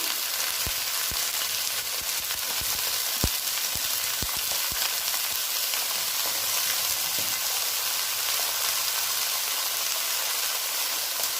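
Eggplant pieces fry in a pan for a Bengali-style lau shak dish, a steady close sizzle throughout, with a few sharp clinks and taps early on as the pieces go in, no talking.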